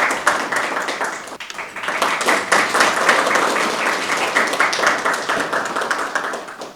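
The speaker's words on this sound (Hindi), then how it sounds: "आपकी जोरदार तालियों और वाहवाही के साथ" An audience at a university development summit welcome ceremony claps to greet guests, brisk close applause with distinct individual claps, sustained and loud throughout.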